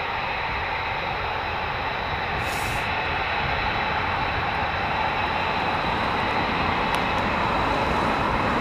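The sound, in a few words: C-130 tanker aircraft engines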